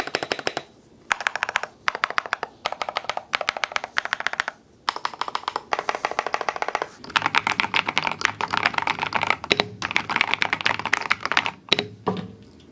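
Typing on a Tecware Phantom S mechanical keyboard, a rapid dense clatter of crisp key clicks in bursts separated by short pauses, building into continuous fast keystrokes, close and loud with no talking.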